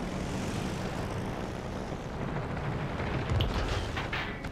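USS Saipan carrier aircraft engines in World of Warships Legends: a steady, loud droning roar that holds throughout, with a few sharp bursts of gunfire near the end.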